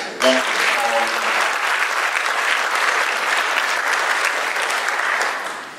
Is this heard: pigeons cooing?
no